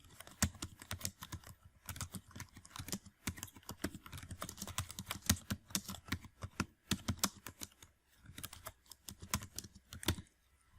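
Rapid, steady typing on a computer keyboard, with dense clusters of close keystrokes in uneven bursts and brief pauses, heard alone and fairly close.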